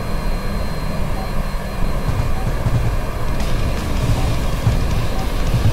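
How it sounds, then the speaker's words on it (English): Hornet jet aircraft in a video game roar steadily overhead, a broad continuous engine drone holding at a loud level throughout with no talk. "So let's go ahead and watch the Hornets this time."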